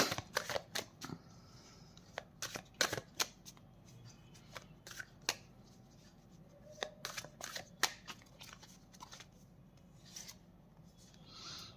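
Tarot cards are shuffled and drawn in a quiet room, with repeated crisp riffling and slapping bursts in irregular clusters, close and fairly soft, with no talking.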